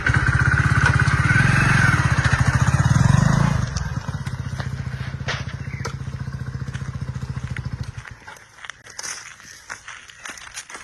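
A motorcycle rides along at steady speed, its engine a loud, close rhythmic putter that eases and then cuts out, leaving scattered clatter, scraping and footstep-like sounds.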